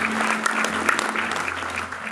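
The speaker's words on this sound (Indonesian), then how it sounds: "Tepuk tangan dulu paling mulia." Church congregation applauding during an Easter service, a steady, dense wash of clapping from many hands that holds evenly throughout with a faint low hum beneath.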